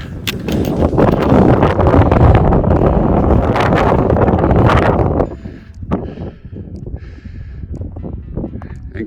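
Strong wind buffets the microphone on a sunny, cold Scottish mountain summit near Ben Lawers, roaring loudly for about five seconds, then easing to weaker gusts.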